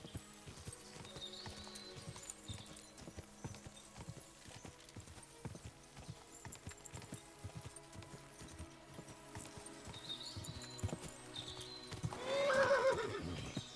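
A horse gallops in Kingdom Come: Deliverance II, its rhythmic clip-clop hoofbeats pounding steadily throughout, then a loud neigh rises near the end over faint background music.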